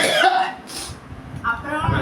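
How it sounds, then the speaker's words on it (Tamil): A person coughs in a few short, rough bursts close to the microphone, with some voiced sounds mixed in, toward the end of a sneezing challenge. "அப்புறம் தும்மல் குறைஞ்சி இருமல் வந்துருச்சு"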